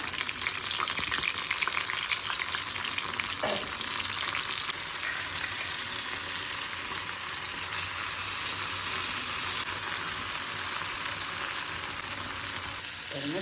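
Chillies fry in coconut oil for Kerala-style kolla milagai, a steady, close sizzle that holds at an even level, with faint handling sounds and no talking.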